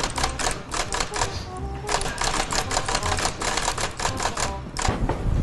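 Typewriter typing, a rapid, dense run of loud clattering key strikes in uneven bursts, close-up and continuous with no talk over it.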